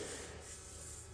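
Steady, continuous sanding of body filler on an HQ Tonner tray: a rough, abrasive rubbing noise, fairly quiet and close, with no talking.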